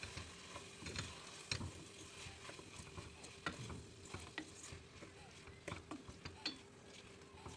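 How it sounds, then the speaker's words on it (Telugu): Brinjal and onions with salt are stirred in a pan on the stove, giving a soft frying sizzle broken by irregular scraping and clacking of the spoon, faint and close. "వంకాయలు ఆనియన్స్ బాగా మిక్స్ అవ్వాలండి."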